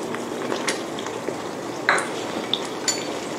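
An omelette with minced pork and sliced spring onion fries in a pan, with a steady soft sizzle and a few light metallic clinks and taps from a utensil, up close with no talk.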